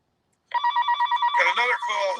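A telephone rings for an incoming call on a radio call-in show, a loud, regular electronic trill starting after a brief silence, with a voice coming in over the last ring.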